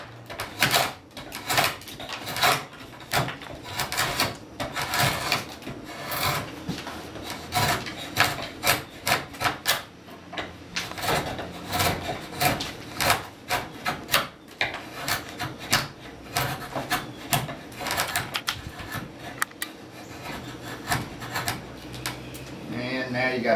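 Hand carving of wooden chair volutes, a blade shaving off corners in quick repeated scraping and rasping strokes, close and continuous, with someone talking at times over the work.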